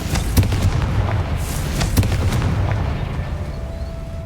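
A Confringo spell explodes in the Hogwarts Legacy video game, a dense crackling burst of booms and sharp blasts that fades into a lingering rumble, loud and without speech.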